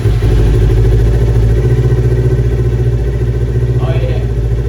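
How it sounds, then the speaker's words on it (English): A 2022 Kawasaki Ninja 400 fitted with an Akrapovic slip-on exhaust runs at a steady, loud, close idle, its rumble continuous throughout with a brief blip near the end. "I'll go ahead and start the bike now for you guys, and we will go for a ride and see how she sounds"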